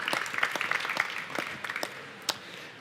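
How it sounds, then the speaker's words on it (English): A scattered round of audience applause at an evening panel event on climate change science, fairly faint and thin, with individual claps audible as it tapers off. "so maybe a quick round of applause already for Ottmar."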